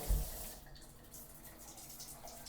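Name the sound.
water draining down unclogged shower drain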